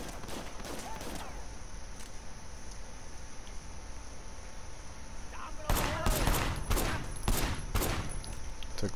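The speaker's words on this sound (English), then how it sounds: "Took 3 shots to kill a buddy." Gunfire in the video game Sleeping Dogs comes as a rapid burst of loud, sharp shots in the second half, following quieter ambient noise and a few earlier cracks, with some faint speech mixed in.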